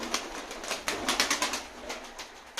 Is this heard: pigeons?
yes